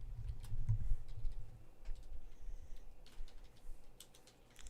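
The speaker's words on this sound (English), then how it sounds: "I'm so shit at typing." Fingers tap steadily on a computer keyboard in irregular bursts of close, soft clicks, with a low background rumble underneath.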